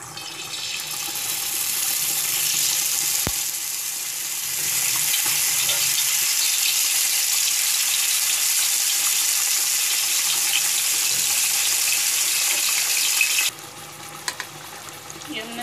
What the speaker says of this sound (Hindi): तवा गरम हो चुका है इसमें हम थोड़ा सा ऑयल डालेंगे एक चम्मच और इसमें हम चिकन के पीस